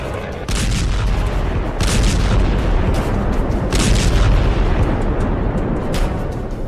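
Missile strikes hit Tel Aviv, heard as a continuous rumbling roar of distant explosions with several heavier booming surges, dense and loud throughout, with no clear talk.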